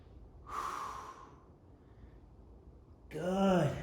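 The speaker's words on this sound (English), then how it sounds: "Big full breaths." Two audible breaths during a dumbbell workout: a sharp, hissing exhale, a pause, then a louder, voiced gasping breath close to the microphone.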